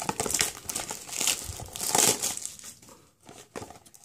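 Crinkly plastic wrapping on a toy surprise egg is torn open and crumpled, a close, continuous dense rustle and crackle that fades briefly near the end before resuming, with no voices.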